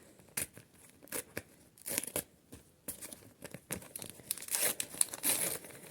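A paper surprise packet being opened by hand: close, crisp crinkling and sharp tearing bursts, uneven in rhythm and steady across the clip, with no talking.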